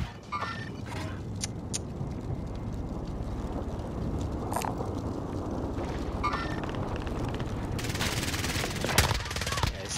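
Light machine gun fire in Call of Duty Warzone, rapid sustained bursts rattling continuously with a denser, louder stretch near the end, heard alone without talk.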